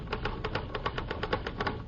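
Typewriter keys being struck as a sound effect on a 1949 radio comedy show, a brisk, even run of a dozen or so sharp clacks close up.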